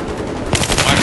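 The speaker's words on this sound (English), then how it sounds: "Oh look, I just shot that guy." Rapid automatic gunfire in the Battlefield 3 video game on the Riverside map, a dense continuous burst of close, loud shots filling the whole second, with no speech.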